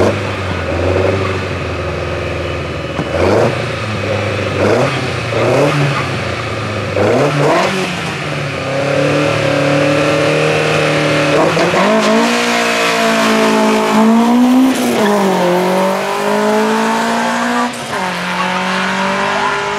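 A nearly 50-year-old race car at the Glasbach hill climb in Bad Liebenstein revs loudly and close, its engine climbing and dropping through repeated gear changes with a brief tire squeal.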